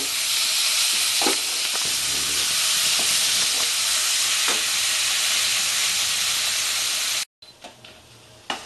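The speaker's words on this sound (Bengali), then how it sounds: "এক চা চামচ মতো জিরা বাটা দেবো আমি খুব ভালো করে এখন কষব" Minced meat with cumin paste sautés in a hot pan, a loud, steady close-up hiss and sizzle with faint stirring scrapes, cutting off abruptly near the end to quieter clinks.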